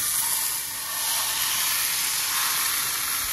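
A cross-cut beef shank steak sizzles in a pan with a constant, even hiss, close up and uninterrupted, with no talking.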